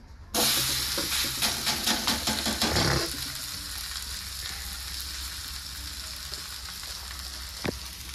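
Loud sizzling of a thalipeeth flatbread on a hot oiled griddle over a gas flame, with a few crackling pops, settling into a softer steady frying hiss after a few seconds, no talking.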